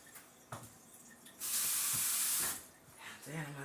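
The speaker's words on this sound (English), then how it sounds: "Rinse my hands off." Tap water runs into a kitchen sink as hands are rinsed during beef shank seasoning, a loud steady rush lasting about a second after a few quiet clatters, then cutting off into faint kitchen sounds.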